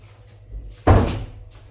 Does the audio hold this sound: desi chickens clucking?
no